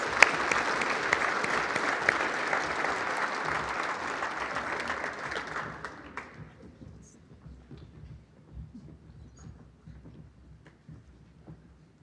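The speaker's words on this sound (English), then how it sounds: "A round of applause for the Rock Canyon athletes." Luncheon audience at a girls and women in sports event applauding Rock Canyon athletes: a loud, dense burst of clapping for about six seconds that stops abruptly, leaving quiet room noise and faint murmurs.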